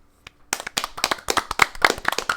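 A few people clap their hands close up in an irregular, uneven patter of sharp claps after a brief quiet start, with no talk over it.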